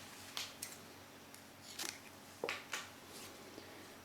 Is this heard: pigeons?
no